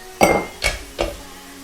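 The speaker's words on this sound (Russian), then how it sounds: "И перемешать. 5-7 минут мы сейчас пожарим." A spoon stirs tomato paste frying in a pot for borscht, giving three distinct close metallic clinks against the pan, each followed by a short ringing decay.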